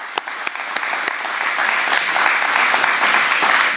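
A crowd claps in another round of applause at an outdoor hometown heroes closing ceremony, dense and steady throughout with a few sharper claps near the start.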